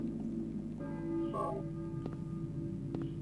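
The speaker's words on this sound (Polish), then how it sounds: "Dzwony biją." Church bells ring in the video game Silent Hill, with a tonal peal swelling over a low droning ambience and a few faint metallic knocks afterward.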